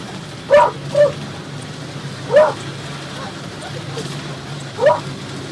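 A dog barks in short, sharp bursts: two quick barks close together, another a little later, and a final one after a pause, over a low steady background hum.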